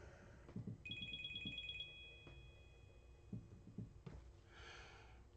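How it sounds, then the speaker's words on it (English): A phone ringtone plays a short run of quick repeating electronic beeps, faint in a quiet room, with some breathing and small handling noises around it. "getting a phone call"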